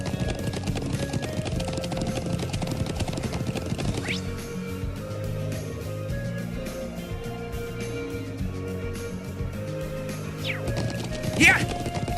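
Horse hooves clip-clop at a gallop in the video game Trails of Cold Steel, a steady rhythmic patter over game music, with a brief crash near the end.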